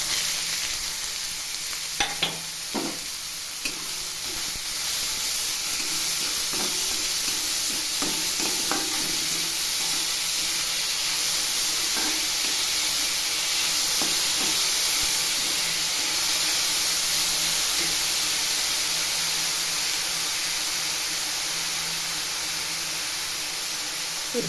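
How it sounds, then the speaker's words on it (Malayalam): Chopped onion and green chilies sizzle steadily in a hot pan while okra thoran is cooked Kerala style, with a constant bright hiss and occasional stirring clinks. "സവാളയും പച്ചമുളകും അരിഞ്ഞ് വെച്ചിരിക്കുന്നിടാം."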